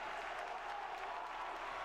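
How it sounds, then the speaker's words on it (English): Crowd applause fills a basketball gym after a player scores and is fouled in a boys' high school game against Columbia, a steady dense wash of clapping throughout. "a big round of applause from the Red Sea as he got fouled on the play as well"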